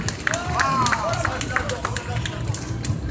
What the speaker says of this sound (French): On peut l'applaudir bien fort, s'il vous plaît, mesdames et messieurs.